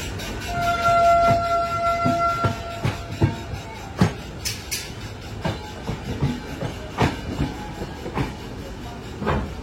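The Howrah Barbil Jan Shatabdi Express runs along the line from Howrah toward Ghatshila, making a moderate rumble with irregular clacks and knocks. A couple of brief tones sound near the start.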